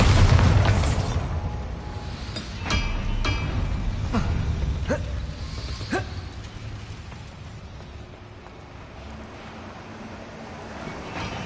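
A Bombarda spell explodes in the Hogwarts Legacy video game with a heavy, booming blast up front, followed by several sharp cracks and pops and a rumbling tail that fades out.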